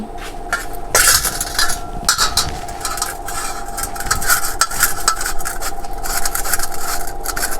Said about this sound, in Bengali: আমার মতো গ্রেটারতে গ্রেট করে নেবেন দেখো আলুটা গ্রেট করা হয়ে গেছে